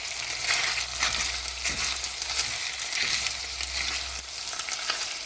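Tomato and basil pasta sauce poured into a hot pan and stirred with a spoon, giving a steady close sizzle with soft scraping and stirring noises and no speech.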